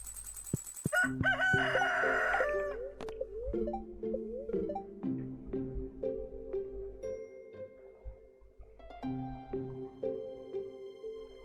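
Chickens in the Stardew Valley farming game, with a rooster crowing loudly near the start, then softer clucks and game tones over a steady, layered game background.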